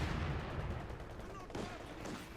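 Gunfire crackles from a WWII-style war strategy game during a 4v4 tournament match, with a dense, rattling stream of shots and distant bursts running continuously under the mix at a moderate, somewhat muffled level.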